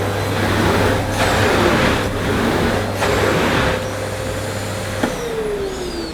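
A Hoover Sensory Evo vacuum cleaner runs steadily with its power dial turned down, giving a continuous airy motor hum with faint shifts in tone and no talking.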